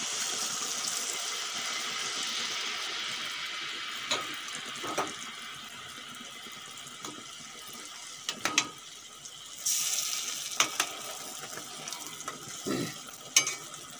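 Pua pitha, a Bengali rice cake, deep-fries in oil with a steady crackling sizzle, punctuated later by several sharp clicks and taps from the pan and utensils.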